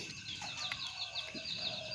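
Repeated bird calls ring out in a quick, warbling pattern, fairly close, over a noisy outdoor background.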